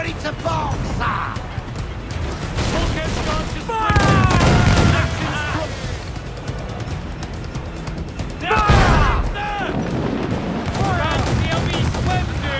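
Heavy cannon fire in a naval battle in Assassin's Creed Black Flag, loud booming volleys over a constant din of battle, with crew voices shouting throughout.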